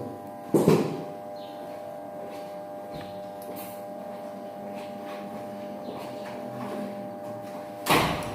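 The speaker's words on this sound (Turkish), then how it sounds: "Şu kapıyı kapatın müsaadenizle." A door pulled shut indoors, with a loud knock near the start and another sharp thud at the end, low murmuring and room noise between.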